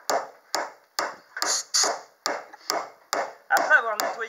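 A hammer taps a timber dowel into a hole in roof-framing wood, with about nine sharp, evenly spaced strikes close by, each one ringing briefly.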